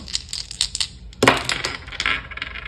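Astrology dice rolled during a tarot reading, making light scattered clicks followed by one sharp clattering tumble and a few smaller rattles as they settle, close by and without speech.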